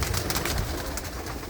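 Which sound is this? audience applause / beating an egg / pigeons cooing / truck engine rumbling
pigeons cooing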